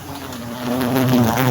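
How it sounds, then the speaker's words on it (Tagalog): A small, aggressive honeybee buzzes right beside the microphone, a steady loud drone that swells slightly as it hovers close. "Yung honeybee nandito na sa akin."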